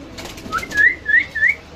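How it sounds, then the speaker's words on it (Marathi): Pigeons at a wholesale pigeon market in Mumbra give a few short rising whistled calls and soft coos, close and moderately loud over a murmuring market background. "म्हटलं कबूतर पकडतोय."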